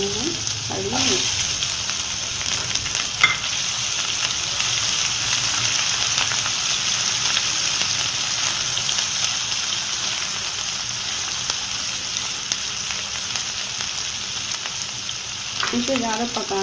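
Green chillies fry in oil with garlic paste in a pan for an instant chilli pickle, a steady close hiss and crackle with occasional stirring scrapes, continuous and even throughout.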